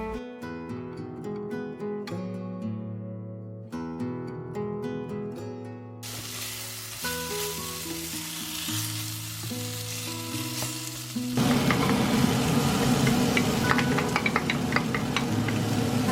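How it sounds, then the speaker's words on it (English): Venison mixture frying in rice bran oil in a pan on high heat, a soft sizzle that swells into a louder crackling fry in the last few seconds, with music playing over it. "Got my nice venison mixture in the pan, simmering away on a high heat, and I'm just browning the outside."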